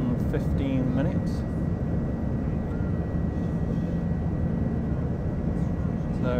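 An Aer Lingus airliner rolling down the runway at Manchester for takeoff gives a steady, heavy cabin roar throughout, with no distinct events standing out.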